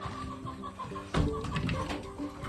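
Chickens clucking in a coop during cold weather, a few soft close clucks and calls, quiet at first, then a louder burst of clucking and shuffling midway.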